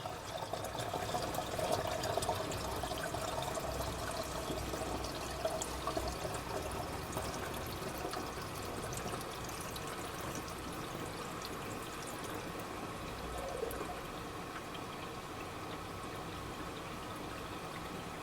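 Water runs steadily into a clay sink fitted with a bottle trap, a continuous pouring and filling wash heard close and alone for the whole stretch.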